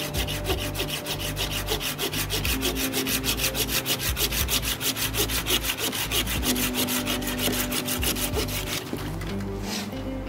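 A Laplander folding saw cuts through a wrist-thick branch, its rapid, steady back-and-forth strokes rasping close and loud for about ten seconds before the blade breaks through.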